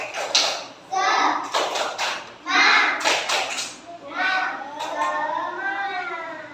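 Children doing a rhythmic spirit clap in a group, hands clapping in quick patterned bursts mixed with their chanted voices, close and lively.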